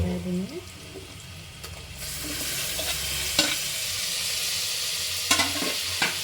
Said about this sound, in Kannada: ಅದು ಸ್ವಲ್ಪ ಹೊತ್ತು ಫ್ರೈ ಮಾಡ್ಕೋಬೇಕು